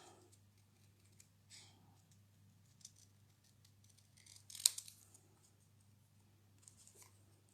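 Scissors snipping out small paper elf figures for a Christmas origami box, a few soft, sparse cuts with one sharper snip near the middle, quiet and close over a steady low hum.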